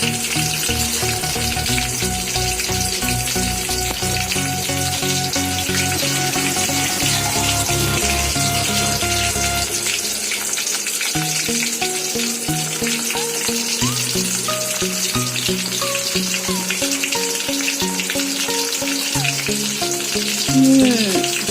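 Chicken fries on a low flame with a loud, continuous sizzle and bubbling oil, joined by occasional stirring scrapes and no voices.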